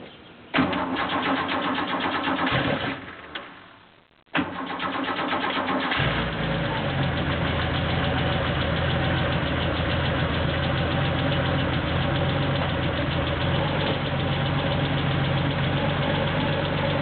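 An engine cranks briefly, stumbles, then fires and catches, rising into a loud, steady idle that holds evenly to the end, heard close and with no voices.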